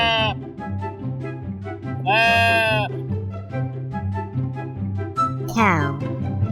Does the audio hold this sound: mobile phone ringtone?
no